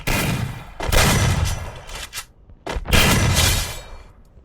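Shotgun blasts in a video game, a few loud, close booming shots with short decaying tails and brief gaps between them, and no talk.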